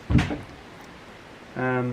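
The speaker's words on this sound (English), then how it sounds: "So they hinge partially, but then they pop off." Side doors on a wooden boat's engine box knock and clatter as they are fitted and pop off, one sharp thump at the start before a brief hum.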